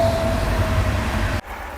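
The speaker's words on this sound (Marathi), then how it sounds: "हीच हीच ट्रेन गेली आणि सगळा माझा आवाज मला कट करावी लागली" A loud low rumble of a passing train, steady and close, cutting off abruptly to quiet near the end.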